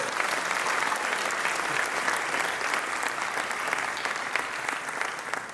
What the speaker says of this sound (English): Let's give a round of applause to our wonderful panel here.